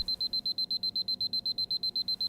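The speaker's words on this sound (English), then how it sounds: "The next morning, Dan awoke to obnoxious beeping." An alarm clock beeps in a fast, steady pulse, loud and close, each high electronic tone repeating evenly with no voices.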